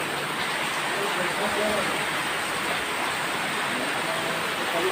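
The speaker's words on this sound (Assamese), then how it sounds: "বৰষুণ দিছে ন বে, বৰষুণ দিছে।" Rain falls in a steady, dense hiss that fills the whole stretch without a break, with faint voices mixed in underneath.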